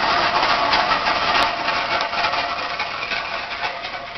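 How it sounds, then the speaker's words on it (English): Tractor engine running steadily at a constant, close drone, with a broad even rumble and no talk throughout. "I'm going to follow in the tractor."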